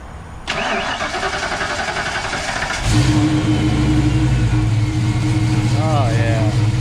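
A car engine fitted with a custom turbo cam starts up near the close, right after a hiss. It catches with a loud burst and settles into a deep, choppy idle.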